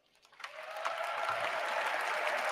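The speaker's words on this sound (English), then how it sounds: "This next part, after the clapping." Applause from an audience in a played recording of a political speech, building up from quiet to a steady, broad wash of clapping that continues alone without talk.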